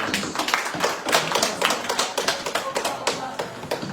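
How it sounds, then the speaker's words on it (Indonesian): Students in a classroom clap their hands together in a quick, uneven patter of sharp claps, close and fairly loud, continuing steadily throughout. "kita tepuk tangan dulu buat kawan banatnya"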